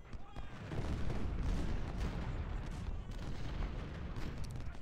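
Cannon artillery fire from the Ultimate General: Civil War game's Sanders Farm battle, a dense, continuous rumble of booming shots and crackling volleys.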